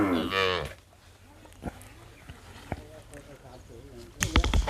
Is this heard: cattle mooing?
yes